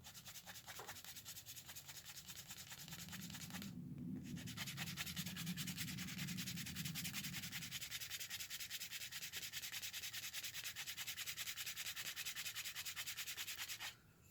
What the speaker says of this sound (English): you can see that burnish mark, that that burnishing color. So let me do it a little more.